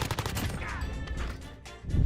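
Rapid gunfire from a weapon in the Apex Legends video game, a quick run of sharp repeated shots that fills about two seconds, with fast reload-cancel firing cadence and no speech over it.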